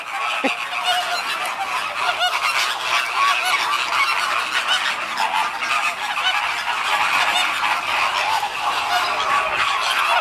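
A flock of greater flamingos calls at a zoo, a dense, loud and continuous honking chorus close by with no speech.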